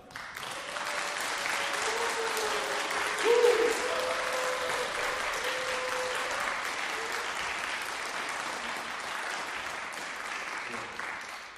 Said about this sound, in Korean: 모실 때 한 250명 정도 박수를 소리를 할 수 있게끔 부탁드리겠습니다